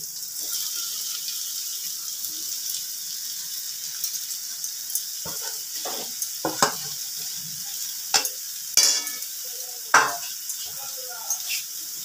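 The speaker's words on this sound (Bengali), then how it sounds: "পনির ভুজিয়া বানানোর জন্য আমি পনিরটা এইভাবে গ্রেট করে নিয়েছি। এবার এটাকে মিশিয়ে দিচ্ছি।" Grated paneer stirred in hot oil in a pan for paneer bhujiya, with a steady bright sizzle throughout and scattered clicks and scrapes of a spoon against the pan.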